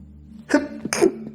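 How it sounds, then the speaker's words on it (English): A single close, loud sneeze: a quick sharp intake bursting into an explosive expulsion, with a quiet background before and after. "The place is making me sneeze."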